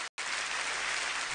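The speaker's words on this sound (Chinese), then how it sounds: "我们用掌声把另外两组选手请回到舞台上来" Studio audience at an errenzhuan stage contest clapping to welcome contestants back on stage, even continuous applause after a brief dropout at the start.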